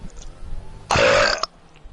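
A single loud, drawn-out burp rises sharply over a quiet, murmuring background, lasts about half a second, then cuts off abruptly.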